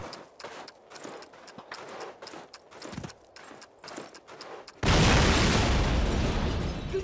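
A flak gun blows up in the 2003 Call of Duty video game, a loud, sustained roaring blast that erupts suddenly after several seconds of scattered thuds, distant gunfire and battle noise.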